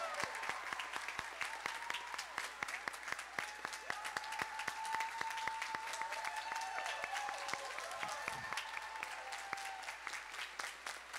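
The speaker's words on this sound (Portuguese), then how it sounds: "Mais palmas aí, pessoal, mais palmas." Applause from an audience at an arts process showcase, a steady patter of claps running the whole time at moderate distance, with faint voices and tonal sounds threaded underneath.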